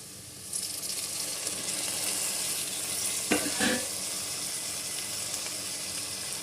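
Raw prawns and onion pieces fry in a pan with a steady, close sizzling hiss that runs throughout, briefly broken by a couple of stirring scrapes partway through.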